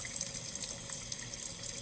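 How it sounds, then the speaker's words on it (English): Water trickling steadily from a Buchner funnel down into an Erlenmeyer flask during lab filtration, a continuous hissing flow with faint drip accents, close and with no talk. "we let that drip until we don't see much more water coming down out of the Buckner funnel into the Erlenmeyer flask"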